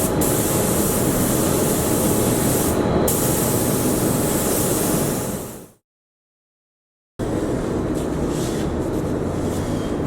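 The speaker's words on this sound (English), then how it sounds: "Mask it up, sand it down, spray primer, colour and clear coat." A spray gun hisses steadily as primer goes onto a car's side steps, loud and continuous, then stops briefly before spraying resumes.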